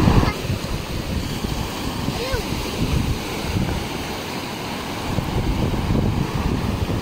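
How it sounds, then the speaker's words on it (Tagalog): Big storm waves crash and surge along the sea during a typhoon, a dense, loud roar mixed with heavy wind buffeting the microphone. "Siyempre, lalaki ng alon eh."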